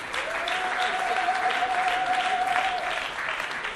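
Steady, sustained applause from a wedding reception crowd at a customary wedding in a banquet hall, continuous clapping at moderate level throughout with no talk over it.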